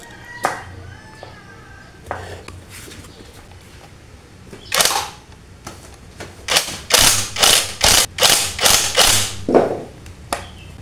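A ratchet wrench tightening the cylinder-head bolts on a Honda Supra 125 engine: scattered taps, then bursts of rapid close clicking in quick repeated strokes, loud and dry, with no talk.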